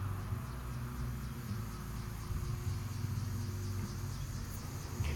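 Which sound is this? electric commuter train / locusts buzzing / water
locusts buzzing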